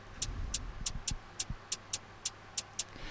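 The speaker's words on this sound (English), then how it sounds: "the hi-hats kind of do this" A drill-style hi-hat pattern at 140 BPM plays alone, with crisp, evenly spaced hi-hat ticks in a steady rhythm over a faint low thump, fairly quiet overall.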